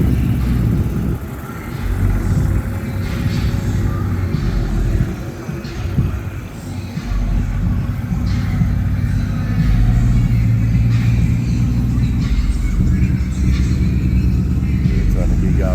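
A car engine idles and rumbles steadily as the car rolls off a trailer at a car show, with low revving throughout and people talking nearby.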